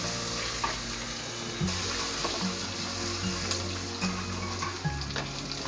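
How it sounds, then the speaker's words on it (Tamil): Crushed garlic, cumin and pepper sauté in a pan for balloon vine leaf rasam, a steady close sizzle with soft stirring scrapes and occasional taps. "இப்போ நம்ம நுணுக்கி வச்ச அந்த அந்த பூண்டு, ஜீரகம், மிளகு எல்லாத்தையும் சேர்த்துக்குவோம். சேர்த்துட்டு லைட்டாக வதக்குவோம்."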